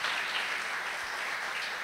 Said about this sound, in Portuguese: Vamos aplaudir a Jesus pela vida dele.